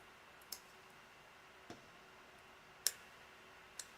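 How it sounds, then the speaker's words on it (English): Small embroidery scissors snip trim on a beaded pumpkin appliqué, giving a few faint, sharp isolated clicks spaced about a second apart against a quiet background. "Embroidery scissors, better for more for things than just embroidery."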